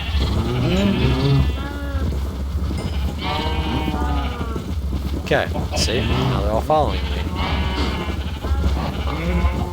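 Several Minecraft sheep bleat repeatedly, overlapping in a busy flock, while a person talks over them.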